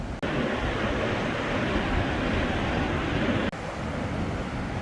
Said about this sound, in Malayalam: സിയാച്ചിൻ മലനിരകൾക്കിടയിലൂടെ നല്ല രീതിയിൽ കുത്തി ഒഴുകിയാണ് ഈ നദിയുള്ളത്